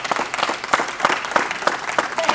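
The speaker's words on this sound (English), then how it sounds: "I think that these ladies need a round of applause." A small group applauds the cooks at a vegetarian cooking class, irregular clapping with a few louder claps standing out, close and lively throughout.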